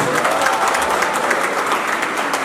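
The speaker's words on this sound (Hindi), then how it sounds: "तालियां थोड़ा जोर से," An audience at a college fresher party and book release claps loudly and continuously, a dense wash of hands with no breaks.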